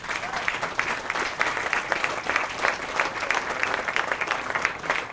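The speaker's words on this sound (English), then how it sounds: "And they deserve a round of applause." Dense, steady applause from an audience at a dedication ceremony for Goodale Landing, honoring the marketing team; many hands clap continuously at an even level for the full stretch.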